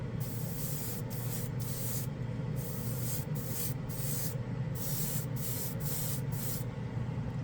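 Shiny black base paint sprayed onto a spoon from an aerosol can, a series of close, loud hissing bursts of varying length separated by short gaps.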